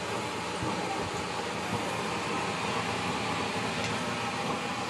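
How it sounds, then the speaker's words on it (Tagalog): The blower of a newly made kerosene stove runs in a steady, even broadband whoosh throughout, with a couple of faint low thumps near the start. "Yun yung kanyang blower, kanyang controller."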